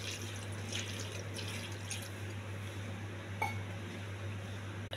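A glass of water poured into dal for cooking, with a soft liquid splash and light drips over a steady low hum, followed by a brief clink near the middle.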